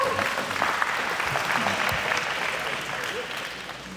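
A crowd at a Class of 2024 senior luncheon breaks into sustained applause, dense and loud at first and then tapering slightly toward the end, with a little cheering mixed in.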